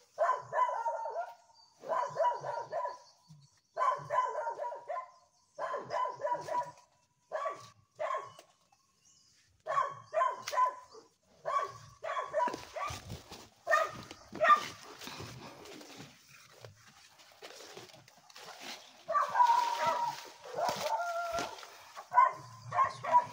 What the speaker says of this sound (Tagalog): Pero bakit may aso?